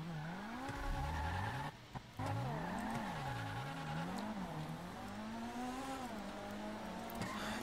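Car tires squeal and skid in a video game, a continuous wavering screech over a droning engine that rises and falls in pitch for several seconds, with a brief dropout partway through.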